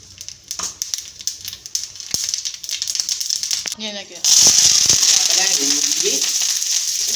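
Mustard seeds crackle and pop rapidly in hot coconut and sesame oil for a tuna fish pickle, then a louder steady sizzle takes over while someone talks over it.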